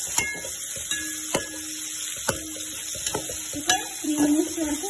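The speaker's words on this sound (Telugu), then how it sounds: "ఇప్పుడు 3 మినిట్స్ వరకు వేయిస్తూ ఉంచాలి." Coriander, green chilli and mint frying in a pan with onion, a steady close sizzle broken by repeated sharp scrapes and knocks of a stirring spoon against the pan.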